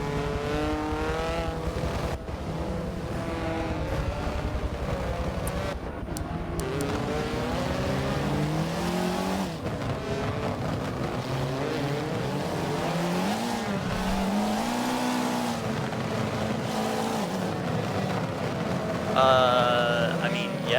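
Race cars at Laguna Seca accelerate on a green-flag restart in the Michelin Pilot Challenge, engines loud and close with rising and falling revs and gear shifts sweeping through the full stretch, a denser surge near the end.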